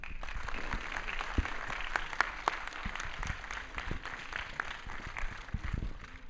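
An audience applauds a speaker at an independence anniversary event, a fairly quiet, continuous patter of many hands clapping heard on its own with no talk over it.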